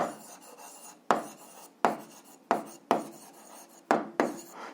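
Pen or chalk strokes writing out an algebra formula by hand, a series of about seven sharp scratchy taps and short rasping strokes at uneven intervals, close and fairly quiet, with no talking.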